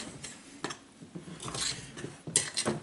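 Far Breton batter for a raspberry version is stirred in a bowl, with a utensil clinking and scraping against the side in several separate strokes, close by and fairly quiet.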